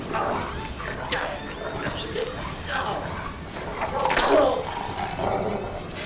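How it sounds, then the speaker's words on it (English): Dog barking and yipping in the Deadly Premonition video game, a run of sharp, close barks over busy game sound with voices talking throughout. "Dog out of nowhere."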